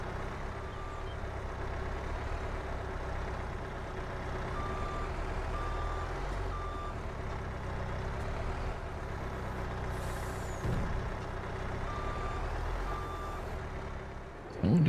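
Truck in a forestry farming video game hauling logs, with a steady engine drone and a repeating reversing beep, an air-brake hiss near the end, loud and continuous with no talking.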